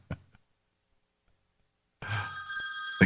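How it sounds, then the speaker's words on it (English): A cell phone rings on a live radio call-in broadcast, its steady electronic tone starting abruptly partway through and continuing loud and unbroken, after a brief faint knock at the start. "There goes his cell phone"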